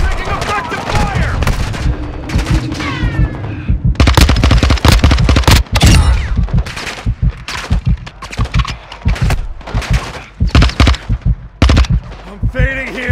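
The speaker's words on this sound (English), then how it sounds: "You are taking effective fire. Taking effective fire!" Heavy automatic gunfire and shots in Call of Duty Modern Warfare 2 combat, loud close bursts with sharp cracks, interleaved with shouted radio voices.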